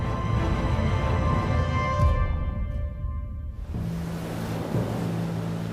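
Ocean waves wash steadily around the schooner Southern Cross at sea, a broad continuous rush with wind noise. It shifts to a quieter, deeper surge partway through, with no voices.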